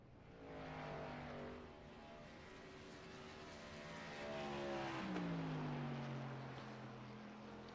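Racing truck engines in iRacing on pit road at Texas, several droning motors with pitch sweeps as trucks pass and shift, one rising then falling sharply near the middle, steady and moderately loud with no talk.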